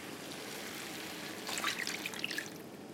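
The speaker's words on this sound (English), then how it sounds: "And then we're gonna add water." Water is poured into a pot of pork and white bean chili with diced tomatoes, a soft, brief trickle and splash that comes partway through and sits over a steady background hiss.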